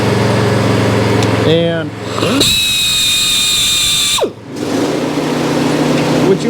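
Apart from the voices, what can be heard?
grinder sharpening saw chain teeth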